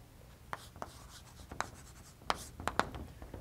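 Writing on a board during a lecture on arithmetic geometry, a handful of sharp chalk taps and strokes spaced irregularly, close and fairly loud over a quiet room.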